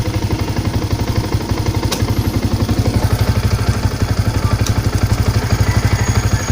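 Motorcycle engine running steadily with a rapid, even mechanical pulse as the clutch is let out slowly to engage first gear; close and loud, with no talk.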